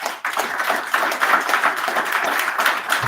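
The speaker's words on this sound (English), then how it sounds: "can I get a big round of applause?" A round of applause from the audience at the inauguration of a new committee in the Congolese community in Ireland: steady, dense clapping from many hands that fills the whole stretch without a break.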